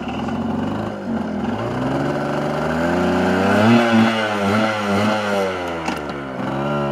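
Engine of a 1979 Yamaha FS1 50cc moped running off-road, a steady buzzing drone that rises and falls in pitch as the throttle varies, loud and close with no talk.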